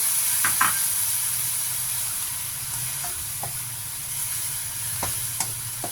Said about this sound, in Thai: เราจะใส่น้ำนิดหน่อยนะคะ